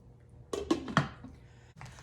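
Spoon stirring sausages into a pot of cheesy potato beer soup: a few soft, quiet clinks and scrapes against the pot in an otherwise hushed kitchen, with no talking.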